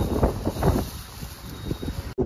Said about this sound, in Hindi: ऊपर से आप समझ सकते हो कि बहुत खतरनाक हवा चल रही है, तूफान चल रहा है तूफान